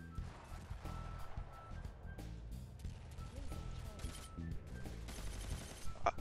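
Scattered gunfire in Ghost Recon Phantoms, sharp shots and short bursts at mid distance under an ongoing game din, fairly quiet, with a player's voice talking over it.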